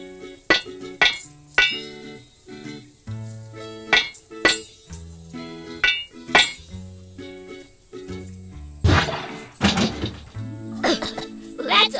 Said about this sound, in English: Use a hammer to break the locks!